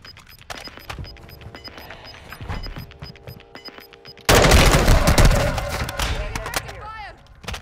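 Gunfire in the video game Warzone 2.0, with sharp shots cracking over game sounds, then a loud burst of rapid fire and impacts near the end, with voices talking faintly underneath.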